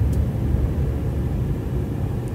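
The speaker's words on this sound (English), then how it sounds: "The plane takes off." A steady, loud low roar of jet engines, constant and droning throughout, like an airplane powering down the runway.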